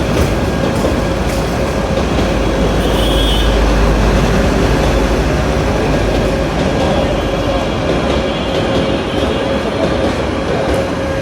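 A Narayanganj-bound commuter train from Dhaka rolls through the Juren level crossing in Bangladesh, its loud, steady rumble and rail noise holding close and continuous throughout without pause.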